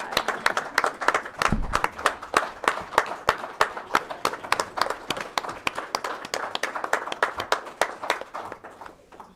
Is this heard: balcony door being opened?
no